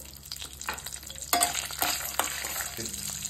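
Peanuts, cumin and coriander seeds fry in a pan with a dry crackling sizzle, punctuated by a few stirring scrapes and pops over a short, steady stretch.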